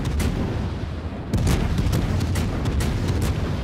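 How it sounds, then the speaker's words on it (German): Naval shell fire and explosions in World of Warships, a rapid series of sharp booms and blasts over a rumbling background, hitting repeatedly and growing denser partway through. "Und jetzt wieder hier geht's rund mit den Granaten"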